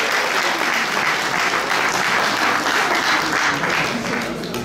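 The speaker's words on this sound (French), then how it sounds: "Applaudissez," Sustained applause from an audience at a live children's quiz challenge in Paris, a steady dense clatter of clapping hands filling the whole stretch at strong volume.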